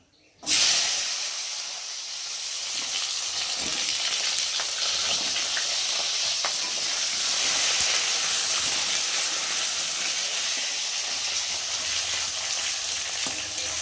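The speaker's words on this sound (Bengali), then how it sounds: "এবার দিয়ে দেবো কেটে রাখা আলুগুলোকে একটু ভালো করে ভেজে নেব ফোড়নের সাথে" Cut potatoes dropped into hot oil tempered with cumin seeds, a sudden loud sizzle that settles into a steady, close frying hiss with faint stirring.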